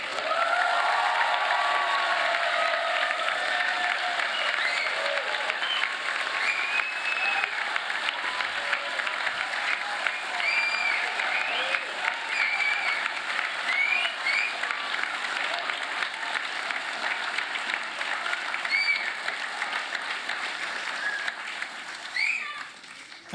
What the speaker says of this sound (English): So a loud applause and make as much noise as you like,